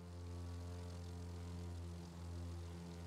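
Propeller airplane engine in flight in The Crew 2 video game, a steady low droning hum with a strong fundamental and harmonics, quiet and continuous throughout.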